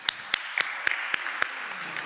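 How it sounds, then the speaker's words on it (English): At a youth legislative session, a few isolated, crisp hand claps ring out at a steady, evenly spaced beat, nearby and fairly sparse rather than a full round of applause. "Please give them a round of applause."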